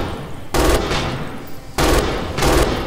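An MG 42 machine gun in Red Orchestra 2 fires three loud, close bursts of very rapid automatic fire with short pauses between them.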